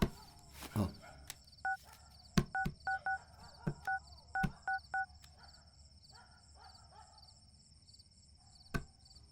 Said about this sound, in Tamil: ஏய், குமாருக்கு ஃபோன் பண்ணி வர சொல்லு.